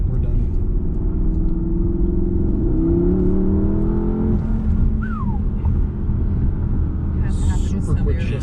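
2019 Porsche Panamera Turbo accelerating hard from inside the cabin, a steady engine drone rising in pitch with a couple of quick gear-shift steps, loud and continuous with faint background chatter.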